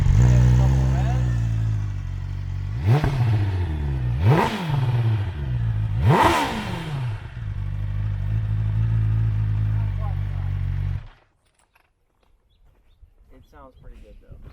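Motorcycle engine idling steadily, then three sharp throttle blips revving up and falling back, from a 2020 BMW S1000R on 91 octane with the stock exhaust; loud and close, ending abruptly into near silence.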